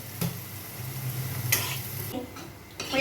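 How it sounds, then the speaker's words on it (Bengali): Whole cumin seeds added to hot oil make a moderate sizzle with stirring clatter, a sharp utensil tap midway and a low hum underneath. "এখন সে একটু গোটা জিরা দেবে"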